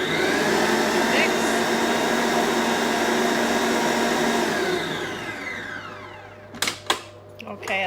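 An electric mixer beating cupcake batter runs as a loud, steady whir, then winds down and stops. A few clicks and knocks follow in the near silence.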